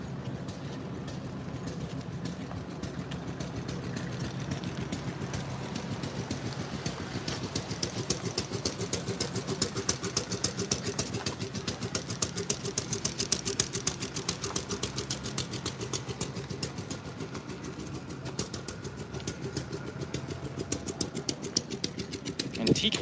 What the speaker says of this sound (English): Antique engines and farm tractors.